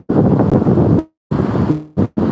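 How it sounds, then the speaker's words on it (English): Gusty wind buffets a helmet-mounted microphone in loud, rumbling bursts while riding in Los Angeles, cutting out briefly between gusts. "It's pretty windy out here."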